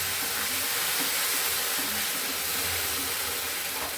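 Veg manchurian fries with tomato sauce in a pan, giving a steady, close sizzle and hiss with faint stirring scrapes and no voices.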